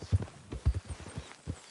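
Horse hooves clip-clop in Red Dead Redemption 2, a few close, soft thuds in an uneven walking rhythm as the horse heads toward town.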